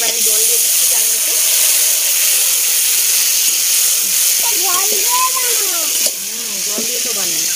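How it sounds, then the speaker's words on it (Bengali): Water poured into a hot pan of fried mango for chutney, raising a loud continuous sizzle and steamy hiss, with someone talking over it in the second half. "এবার আমি জল দিয়ে দিচ্ছি চাটনিতে।"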